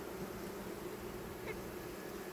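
A steady, faint drone of many honeybees buzzing together in a hive fills the whole stretch, low and continuous with no talking.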